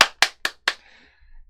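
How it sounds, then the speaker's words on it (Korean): Four sharp hand claps ring out in quick succession in a reverberant room, each distinct and loud, before the space falls quiet. "박수!"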